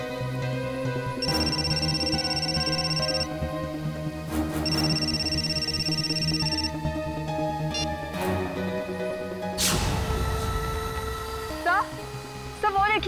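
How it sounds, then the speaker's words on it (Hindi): A telephone rings in two long electronic bursts over busy background music and noise, followed by a sharp crash and commotion. "निखिल सर सिद्धार्थ का फोन।"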